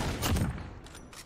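A few muffled bursts of gunfire thud in quick succession over a dense, noisy background in Call of Duty: Modern Warfare (2019) multiplayer.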